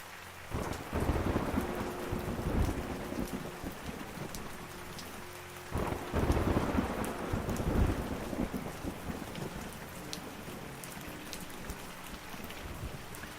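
Heavy rain pours steadily on a surface, with low rumbles of thunder rolling in twice; a constant, dense hiss throughout with no voices.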